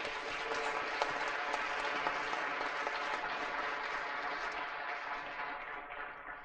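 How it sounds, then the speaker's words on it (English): A crowd applauds staff from an IT department with dense, sustained clapping that fills the room evenly and tapers off slightly at the end. "So a round of applause for them, please."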